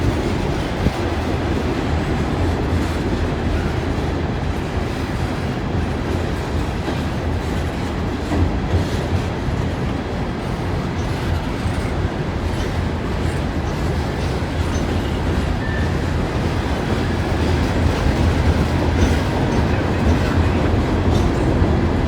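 A long coal train rumbles steadily past close by, wheels clacking over rail joints without pause throughout.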